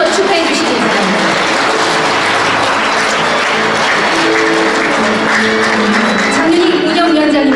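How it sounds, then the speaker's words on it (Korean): Dense, sustained applause fills a literary award ceremony hall after a prize presentation, with a voice talking over the clapping throughout. "여러분 큰 박수로 축하해 주시기 바랍니다."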